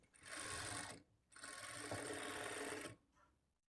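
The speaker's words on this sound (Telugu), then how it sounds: "ఇప్పుడు ఇదే స్టిచ్ మీద ఇంకొక స్టిచ్ వేసుకోవాలి" A sewing machine stitching the dots on the front part of a blouse runs in two loud, close bursts of rapid needle clatter. A short pause separates them and a softer, brief run follows before it stops.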